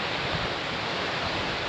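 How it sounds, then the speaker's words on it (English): A waterfall cascading down an alpine mountainside on the Swiss Via Alpina route, heard as a steady, unbroken roar of rushing water, fairly loud and even throughout, with no talking. "up from there, there's a waterfall coming all the way down"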